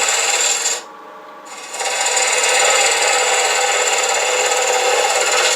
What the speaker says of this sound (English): So I'm going to take a spindle gouge and just take it back a bit.